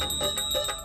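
Small bells hanging from a dhoti jingle in a few quick, bright rings, close and clear with no talk.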